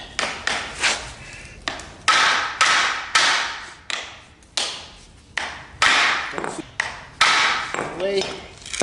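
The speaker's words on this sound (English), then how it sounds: "you want to take the hammer, tap on this a bit" Repeated hammer taps on a rusty universal joint, about a dozen sharp metallic strikes in an irregular rhythm, close and loud, with brief pauses between groups.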